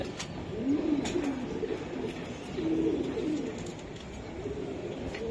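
Racing pigeons, including a hen, cooing in low rolling phrases that repeat every couple of seconds, steady and close against a dense background of other birds.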